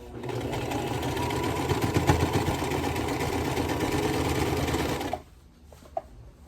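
A sewing machine stitches across a pleat in a quilt, a fast steady mechanical whir running for about five seconds before stopping abruptly, leaving near silence with a single click.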